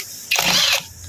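A portable drill whirs in a short burst during an electric fan bushing repair, a bright, buzzing motor whine rising abruptly, holding about half a second, then dropping away, with another burst starting at the end.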